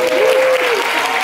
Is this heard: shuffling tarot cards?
no